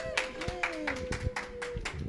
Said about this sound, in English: Can we get a round of applause for Tonya,